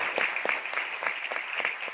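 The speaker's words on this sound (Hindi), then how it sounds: "मैं चाहूंगा सर के लिए भी एक जोरदार तालियां होगा।" Applause from an audience in a hall at a motivational talk on direct selling, a steady dense wash of clapping with no voices over it.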